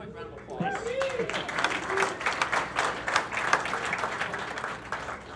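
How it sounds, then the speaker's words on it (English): An audience at a local meetup event gives a round of applause, dense clapping rising steadily, with voices and cheering mixed in throughout. "So give them a quick round of applause."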